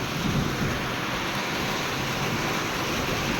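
Steady heavy rain hisses across the whole stretch, with a low rumble underneath suggesting distant thunder; no voices.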